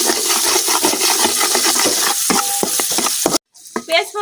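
Green chilies and onion frying in oil in a pan, with steady loud sizzling and stirring scrapes throughout, ending in a short break and then a few clanks.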